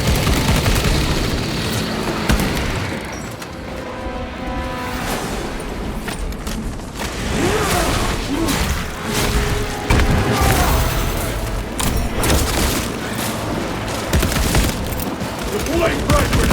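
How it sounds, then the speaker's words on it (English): Orbital guns firing during Warhammer 40K Space Marine gameplay, heavy booming bursts and sustained fusillade rolling over a dense battle din, loud and continuous, with game voices speaking over it. "There they are, the orbital guns."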